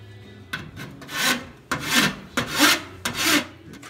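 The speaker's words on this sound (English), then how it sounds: "I've just done a light sanding over the weld to get all the shouldering and the high spots off" Light sanding strokes rub back and forth across a welded metal car fender in a steady rhythm, several short passes, close and moderately quiet.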